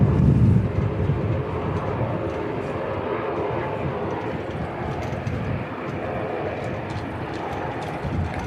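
A Dash 8 turboprop departs the airport, its broad engine roar steady and fairly loud throughout, starting strongest at the outset and holding a continuous drone with no talking.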